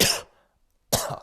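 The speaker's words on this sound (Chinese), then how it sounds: "咳嗽有点厉害啊" Two harsh, close coughs from a man, separated by a short silence.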